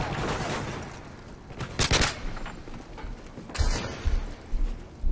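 Short bursts of gunfire from a rifle in the multiplayer shooter Modern Warfare 3, a few quick clustered volleys with sharp cracks, fairly close amid faint background game noise, no talking.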